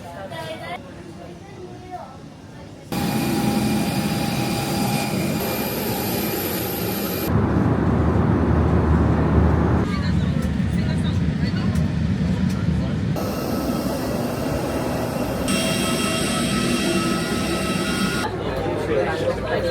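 British Airways airliner in flight, with a steady loud cabin roar and jet engine drone throughout that shifts in tone a few times, with no voices.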